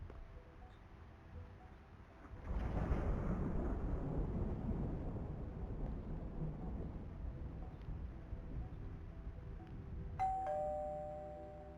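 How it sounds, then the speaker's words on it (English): A doorbell chime rings out late in a detective video game, a bright tone with a short decay that follows a stretch of rumbling, noisy game ambience. "Doorbell works."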